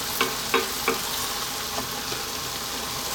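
Wilted spinach is stirred into a chicken curry in a hot pan, with a steady close sizzle and a few soft scraping strokes of the spoon near the start.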